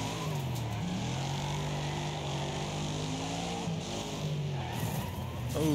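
Cars in a Wreckfest derby, a video game, snarl and skid continuously for several seconds, with a loud engine drone, squealing slides and a sharp impact surge at the end, with no talking.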